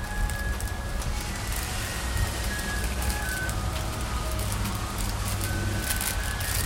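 Rain falls in a steady, dense patter with a continuous hiss outdoors, even and unbroken throughout, with no voices.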